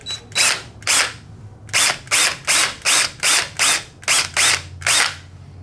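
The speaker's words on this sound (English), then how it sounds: "So using a little bit larger bit, going to go just a little bit into the surface." A slightly larger drill bit boring a shallow hole into the surface of an antler: about a dozen loud, close, rhythmic grinding bursts in quick succession, each with a brief pause between, and no voices.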